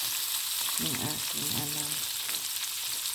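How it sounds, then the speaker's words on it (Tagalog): Onions sizzle in a frying pan while breakfast is being cooked, a steady, close crackle that runs throughout, with a short stretch of speech over it. "Nagpiprito ako ng sibuyas"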